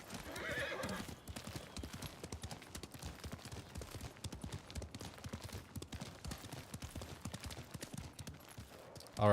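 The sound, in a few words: horse hooves and neighing in video game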